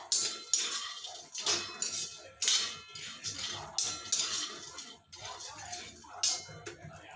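Peanuts roast dry in a pan over low heat, stirred with a utensil in repeated rattling, scraping bursts roughly every second, close and fairly loud.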